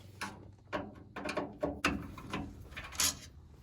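Screw being backed out of a car headlight bezel with a ratcheting tool, a series of short clicking ratchet strokes close up with brief pauses between them, no talking.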